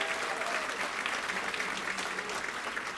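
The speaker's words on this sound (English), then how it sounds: "please give them a shout out, a round of applause" An audience at a school's international night bursts into sustained applause, dense clapping with a few cheers that fills the whole moment.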